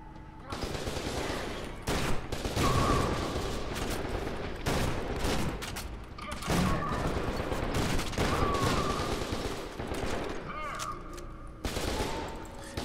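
An automatic shotgun fires in rapid, dense bursts during F.E.A.R. 2: Project Origin gameplay, loud and nearly continuous with only brief gaps between volleys.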